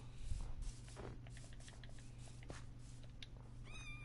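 Cats meowing in Minecraft Bedrock Edition, several short mews scattered over a steady background hum, with a higher-pitched meow rising near the end.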